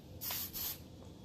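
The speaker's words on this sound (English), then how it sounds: "hairspray your poof so that it doesn't move" Hairspray is sprayed onto a teased-up pouf of hair in two short, soft hissing bursts close by, with quiet between.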